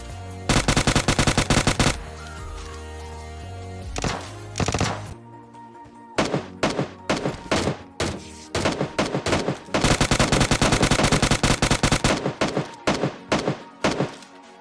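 Rapid, heavy bursts from an S12K shotgun and other gunfire in PUBG Lite, set in an ice landing area. Dense volleys with short pauses between them, loud and punchy throughout.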